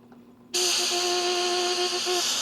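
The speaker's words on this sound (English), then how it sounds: "I'm going to rotate this at a certain speed and drive a stream of air through successive rows of holes" A rotating siren disk driven by a stream of air through successive rows of holes starts abruptly into a loud, steady, buzzy tone with strong harmonics that holds for about two seconds.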